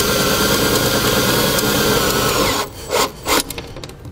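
A power driver sinks self-tapping tech screws to mount a 20 amp breaker on a 2018 Jeep, with a loud, steady whirring drone that stops abruptly and is followed by a couple of short bursts.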